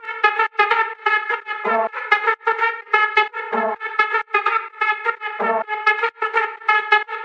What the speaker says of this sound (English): I started this track with this flute loop